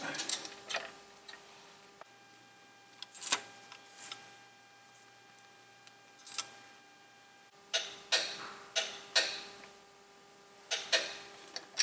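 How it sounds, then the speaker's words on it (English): A torque wrench clicks while tightening a transfer case plug on a Honda Ridgeline or Pilot, giving sharp isolated ticks and ratchet clicks, several clustered near the end, close and fairly quiet with no talking. "got my torque wrench set for 32 foot-pounds. So let's get that on there."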